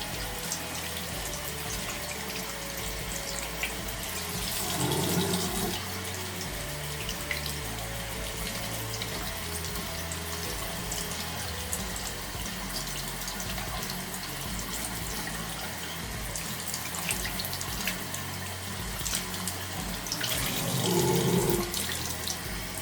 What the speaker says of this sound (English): So you can see that the touch screen is responding to the stream of water falling on it.